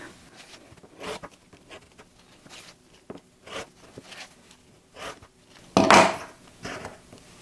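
Quilt batting being cut around a 5-inch ruler on a rotating mat for a micro scrappy quilt, a run of soft scraping and patting strokes with one louder rustling swipe near the end, close and without speech.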